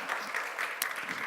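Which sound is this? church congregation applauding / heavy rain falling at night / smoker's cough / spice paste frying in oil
church congregation applauding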